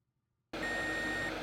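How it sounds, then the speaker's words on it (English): A steady electronic beep from a multimeter in continuity mode switches on abruptly after a brief silence and holds at one pitch to the end, close and fairly loud, with no talk. "you should put your multimeter into continuity mode and you will hear a beep"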